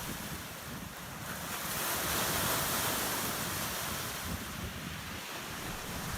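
Waves wash steadily onto the Lake Michigan shore at Chicago, a continuous broadband roar of surf with wind buffeting the microphone, loud and close with no voices.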